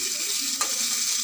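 Capsicum being lightly stir-fried in a hot pan gives a steady, close sizzle with a brief stirring scrape partway through, and no one talks.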